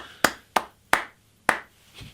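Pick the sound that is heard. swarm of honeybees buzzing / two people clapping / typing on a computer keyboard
two people clapping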